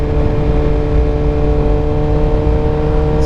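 A Suzuki GSX-R 1000 with a quick shifter, its engine droning loud and steady up close, an even, sustained whine with no obvious gear-change breaks.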